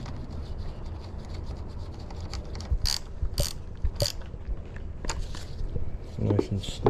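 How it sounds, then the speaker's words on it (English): A ratchet wrench tightens a car battery terminal on a Chevrolet Impala, giving several sharp, close metallic clicks in short bursts over a low background hum, with some quiet talk. "I'm going to go ahead and reconnect the battery."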